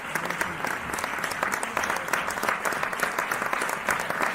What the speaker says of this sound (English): 1 hour applause sounds.